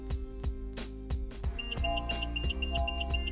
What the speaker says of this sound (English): The measurement is converted into beeps that become more frequent as you approach the obstacle.